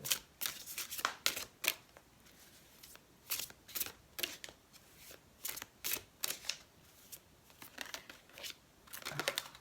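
Tarot cards are shuffled in quick, crisp riffling bursts with short pauses between, close and fairly quiet.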